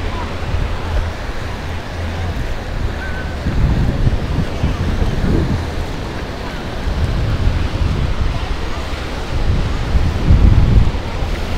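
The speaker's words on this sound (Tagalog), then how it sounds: "Malakas na alon, no?" Strong ocean waves roll in at Virginia Beach under heavy wind buffeting the microphone, a loud continuous rush with surges of surf, while people talk nearby.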